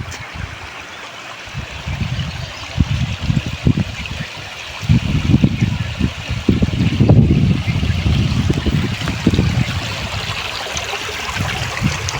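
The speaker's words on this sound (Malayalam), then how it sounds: "ഇവിടെ ഒരു വെള്ളച്ചാട്ടമുണ്ട് കേട്ടോ" Rushing water from a monsoon-season waterfall and stream at Vellarimedu rumbles steadily close by, swelling louder midway, with gusty low buffeting mixed in and no speech.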